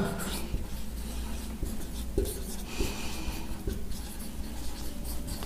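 Chalk or marker writing a short line on a classroom board, a continuous scratchy scraping with small taps as strokes begin, close and fairly steady.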